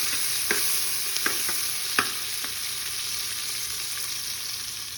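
Chillies frying in hot oil in a pan, a steady bright sizzle with a few sharp clinks of a spoon stirring, close and continuous with no talking.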